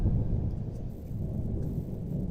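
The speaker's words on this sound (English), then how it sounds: "There was dead silence, other than the thunderstorm getting closer to our house." Thunder from an approaching storm near a house gives a deep, continuous rumble that rolls on for a couple of seconds, heavy and low without any sharp crack.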